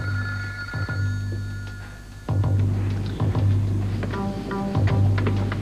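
An old telephone bell rings in repeated bursts, its steady electric trill starting and stopping in a regular pattern amid other room sounds.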